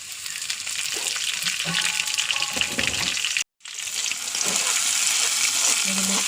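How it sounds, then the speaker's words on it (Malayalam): Steady hiss of onions frying in hot oil, loud and close, with a brief silent gap midway and faint clinks of utensils. "എണ്ണ ചൂടായി ഉള്ളി ഇടുന്നു"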